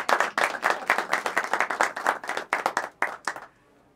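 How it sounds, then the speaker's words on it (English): Audience applause at a magic show in a close-up venue: a dense burst of hand claps, loud and near, that thins into a few scattered claps before ending abruptly in quiet. "please give the two beautiful ladies a big round of applause"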